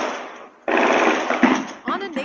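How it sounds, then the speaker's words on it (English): A rapid burst of gunfire from a shooting in a parking lot in Florida, picked up by a neighborhood doorbell surveillance camera: dense, harsh crackling that lasts about a second, with a voice heard around it. "you can hear the chilling sound of rapid gunfire."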